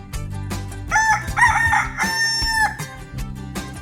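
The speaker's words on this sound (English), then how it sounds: "before the rooster finished crowing" Rooster crowing a full cock-a-doodle-doo, loud and close, with the long drawn-out final note, set against a busy background of music and effects, no talk.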